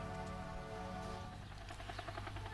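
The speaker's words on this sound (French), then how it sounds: "une formation d'hélicoptères survolait les plages du littoral" A formation of helicopters flying over the coastal beaches of Omaha Beach at a 1974 D-Day 30th anniversary ceremony, a faint, steady rotor drone with fluttering blade chop, distant and unbroken.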